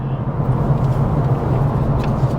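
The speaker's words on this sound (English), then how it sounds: "we'll be using lower gears and the pedal shifters, and we'll be revving the" A Honda WR-V compact front-wheel-drive SUV's engine revving hard in a low gear while climbing a hill, a loud, steady droning hum that holds without pause.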